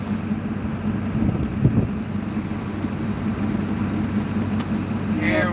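A truck towing a stranded vehicle back toward Waverly Hall, heard as a steady, moderately loud low road rumble and engine drone with some wind noise throughout.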